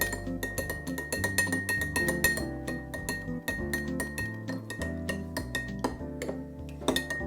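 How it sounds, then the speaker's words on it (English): Honey is stirred in a glass for a Canchánchara cocktail, and a spoon clinks quickly and repeatedly against the glass over steady background music. "I just want to get in there and stir it up. Dissolve all that honey."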